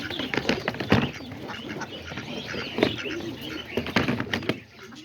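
Pigeons and ducks being fed, with pigeons cooing and fluttering close by, a busy layer of soft calls, chirps and brief wingbeats continuing throughout, with occasional faint talk.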